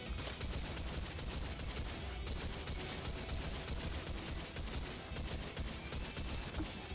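Dense, continuous gunfire in the horror shooter game Underhell, rapid automatic bursts and overlapping shots filling the whole stretch at a loud, steady level with no pauses.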